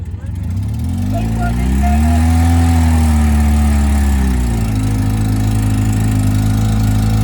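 Motorcycle engine at a mud event revving up loudly and close, its pitch climbing and then easing back to a rough, steady run, with voices over it.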